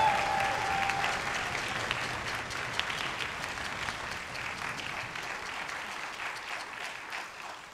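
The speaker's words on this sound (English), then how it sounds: "so let's give them a round of applause as well" An audience applauds the activities team that hosted theater and band students all weekend at a band event, steady dense clapping filling the whole stretch and tapering slightly toward the end.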